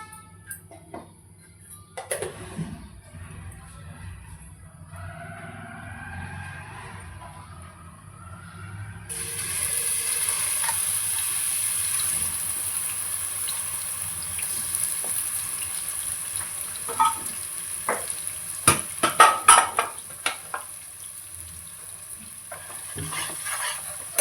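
Onion paste frying in about three spoons of oil for joint biryani, a steady sizzle that swells louder midway and carries on with occasional stirring scrapes and clinks, close and without talk.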